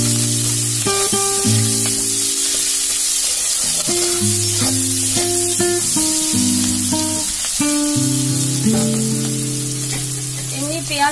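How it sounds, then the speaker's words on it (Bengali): Leafy greens fry with onion in a pan, a continuous bright sizzle that runs the whole time beneath tuneful background music. "পেঁয়াজটা ভালো করে ভাজা হয়ে গেলে তারপর শাকটা আমি দেবো এর মধ্যে।"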